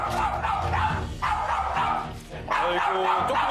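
A small dog barks fiercely and nonstop at visitors entering a home, loud sharp yapping close by with brief whimpering yips mixed in, and people's voices faintly under it.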